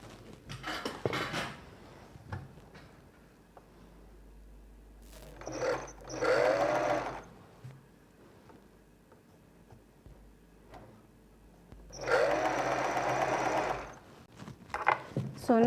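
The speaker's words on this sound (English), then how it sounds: "So now I'm just going to sew it down from a reasonable" A sewing machine stitches a seam down along the edge of a veil (niqab) in two distinct runs of whirring motor noise, close by, separated by quieter handling clicks and taps.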